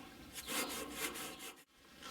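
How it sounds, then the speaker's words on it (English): Rhythmic back-and-forth rubbing as a trailer axle shaft is cleaned, a faint close scraping in repeated strokes with a short pause near the end. "First off, we're just going to clean the shaft. Just going to rub the shaft."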